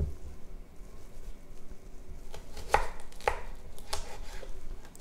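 Knife chopping kale on a cutting board with quick diagonal cuts: a handful of crisp, distinct chops land toward the end, close and clear over a quiet room.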